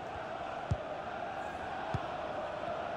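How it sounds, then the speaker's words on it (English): Stadium crowd noise from the FIFA 21 video game during a Fulham versus Manchester United match, a steady roaring wash of spectators throughout with a couple of brief thumps, no commentary over it. "Well, just listen to the crowd."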